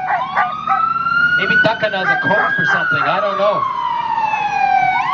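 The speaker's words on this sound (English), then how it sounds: "That's the ambulance." Ambulance siren wailing loudly and close through an outdoor Canada Day celebration in Campbellford, its rising and falling tone sustained throughout while people talk over it.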